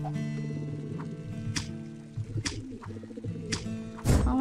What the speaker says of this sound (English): we'll be getting a swarm of pigeons soon